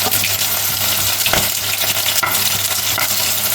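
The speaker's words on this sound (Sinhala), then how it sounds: "තෙල් ටික හොඳට රත් වෙන්න ආරින්න" Oil heating in a pan for a curry, giving a dense, steady sizzle with occasional sharper crackles and stirring scrapes, close and loud.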